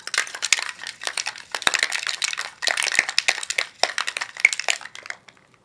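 Ice rattling hard inside a cocktail shaker while a Jungle Bird cocktail is shaken: loud, dense, rhythmic clattering sustained for about five seconds, close and alone before it stops.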